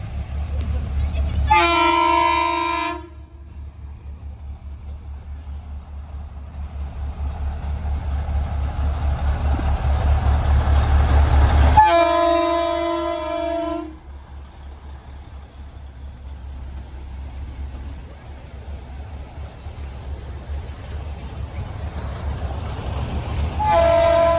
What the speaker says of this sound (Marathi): और ये आ रही है ट्रेन.